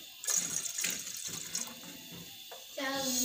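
A cup of water is poured into a saucepan of milk on the stove for jaggery tea, giving short splashing gurgles that build into a fuller stream near the end, with a voice speaking faintly alongside.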